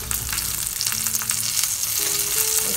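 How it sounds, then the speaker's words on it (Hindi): Kebabs fry in a pan of hot oil for a Turkish soupy kebab, a loud, continuous close sizzle with faint stirring and no talk over it. "देखिए हमारे कबाब जो हैं फ्राई हो चुके हैं"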